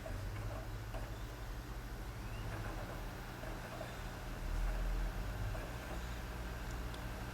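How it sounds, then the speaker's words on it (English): An Xbox 360 Slim console whirs as its disc spins and its cooling fan starts up, a faint, steady low hum and hiss with a slight swell partway through, heard close with no talk. "you can hear the fan start to kick in a little bit"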